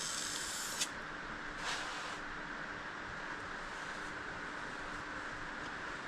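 A spray gun lays lacquer onto a boat part, giving a faint, continuous airy hiss that runs steadily for several seconds with a couple of slight surges and no talking.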